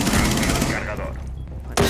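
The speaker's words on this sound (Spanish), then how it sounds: "Cada vez son tiros" Rapid gunfire in Rainbow Six Siege ranked play, a burst of repeated shots that fades out, then a sharp loud shot near the end, with a voice talking over it.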